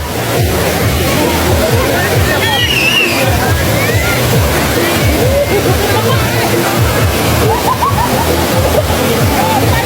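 Water pours and sloshes at Wang Kan Lueang waterfall in Lopburi, a dense steady rush with splashing and the babble of many people playing in the water, voices blending into the noise.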